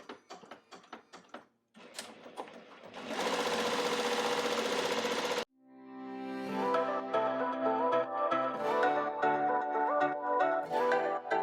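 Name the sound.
embroidery machine stitching 3D puff embroidery design on hat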